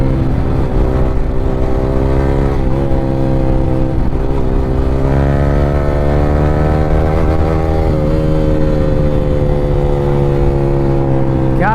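A Yamaha R15 V3 motorcycle with an Akrapovic R9 exhaust is ridden along a road. The engine holds a loud, continuous drone whose pitch climbs steadily as it accelerates and shifts up.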